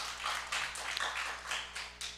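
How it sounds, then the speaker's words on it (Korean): Congregation applause during a New Year revival service at a prayer house church, a steady wash of many hands clapping together in a few rhythmic swells, fairly loud and without talk. "그래도 하나님께 영광의 박수 올립시다."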